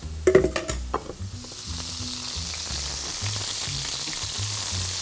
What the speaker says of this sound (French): on va lancer le premier steak en cuisson